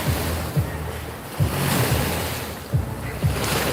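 Boat wake rolling across the Hudson River during a fishing trip: a rhythmic series of waves slapping and washing at close range against a steady wind-like rush, with no speech.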